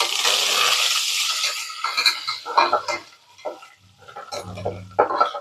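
Coriander leaves, curry leaves and seasoning stir-fry in a pan, an initial burst of sizzling giving way to intermittent scraping and clinking of a spoon against the pan, no voices.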